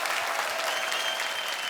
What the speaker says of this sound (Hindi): इन सबके लिए एक बार जोरदार तालियां बजाएं।